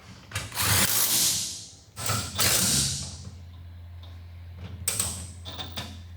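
Ratchet clicking as it tightens exhaust bolts on a Ford F-series truck, with bursts of rapid pawl clicks separated by short pauses, loud and close, set against a steady low hum.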